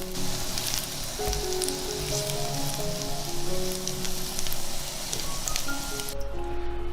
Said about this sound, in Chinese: 煎虾饼呢，一定要多翻动，才不容易焦。